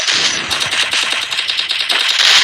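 Rapid automatic gunfire from a Free Fire match, with dense bursts of shots rattling continuously and loudly throughout, some single cracks standing out amid the stream of fire.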